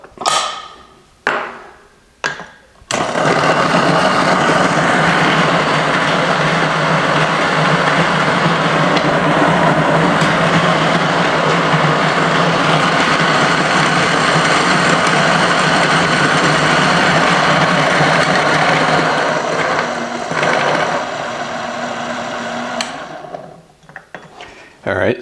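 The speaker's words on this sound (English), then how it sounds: "We will take our 18 grams of beans. We will grind these up." A burr coffee grinder works through 18 grams of Colombian coffee beans: a few short bursts, then a loud, steady whir that runs for about twenty seconds before winding down.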